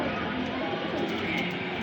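Pigeon cooing softly amid a hissy, steady background, faint and fairly distant, with a few low murmured notes across the short stretch.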